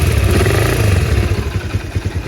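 A carbureted Honda CBR 150R with stock exhaust, over ten years old and kept original, runs steadily up close with a low throbbing engine note and light mechanical clatter, no one talking.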